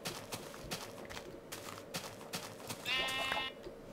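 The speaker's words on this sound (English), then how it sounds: "Ooh, black sheep" A black sheep in Minecraft lets out a short, faint bleat late on, heard amid a steady run of soft footstep-like taps and background game noise.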